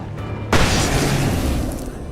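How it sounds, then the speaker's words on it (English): A flash grenade in Alan Wake Remastered detonates with a sudden loud boom that rolls into a dense, sustained roar, heavy in the lows and lasting well over a second. "Another flash grenade."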